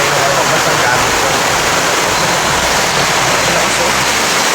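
Heavy typhoon rain pours steadily outside a hut, a dense continuous roar of water that stays loud and unbroken throughout.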